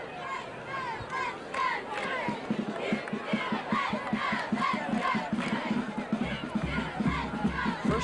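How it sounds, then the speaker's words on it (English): A crowd of fans at a Notre Dame versus Han Tigers high school football game: a continuous, lively roar of many voices shouting and cheering, fairly close, with a sustained rhythmic chant-like swell throughout. "they have a nice crowd for this game"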